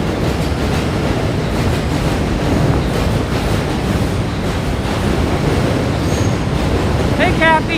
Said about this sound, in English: Oh, wait, Subway's too loud. I can't hear myself.